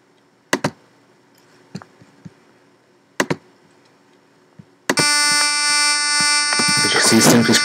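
A synth in Reason pumping with sidechain compression comes in after a few sparse clicks and taps and holds as a loud, bright, steady tone with rhythmic pulsing, growing busier and noisier toward the end, with no talk over it.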